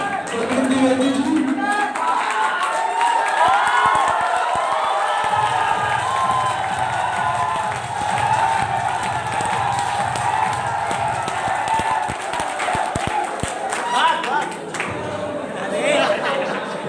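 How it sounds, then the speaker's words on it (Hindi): A college fresher fest audience claps, cheers and chatters loudly for a performer, the crowd noise holding steady and close throughout, with scattered shouts and talk mixed into the applause. "उनको भी तालियों से"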